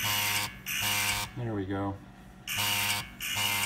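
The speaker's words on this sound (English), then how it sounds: "it does its little beep, beep, beep, beep" A Farnsworth device sounds repeated harsh electronic buzzing beeps in evenly spaced pulses, loud and close, with a brief spoken remark filling the gap between the two pairs of beeps.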